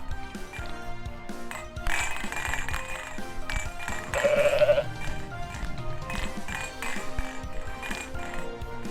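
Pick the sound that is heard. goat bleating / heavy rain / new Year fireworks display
goat bleating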